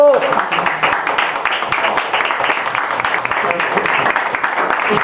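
An audience applauds Cereza and Eni, dense rapid clapping running throughout with loud voices cheering and talking over it.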